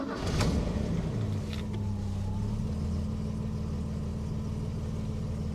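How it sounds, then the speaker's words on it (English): A Ford Capri MK3 2.8i engine catches with a quick cranking burst, then settles into a steady, throaty idle that holds close and loud for several seconds, with no talking over it. "Let me start it up."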